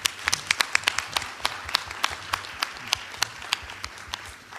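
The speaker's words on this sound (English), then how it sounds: "Please give a round of applause to all the presenters and judges." Sparse applause at a student research paper competition session honours the presenters and judges: a small audience claps in an uneven patter, with a few distinct loud claps standing out.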